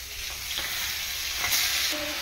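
A hilsa fish head fries in hot oil, giving a loud, steady, close sizzle that continues throughout with no one speaking.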